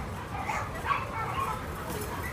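A large dog of about 85 pounds gives a few soft, whiny barks and yips at moderate distance, mixed with faint background noise.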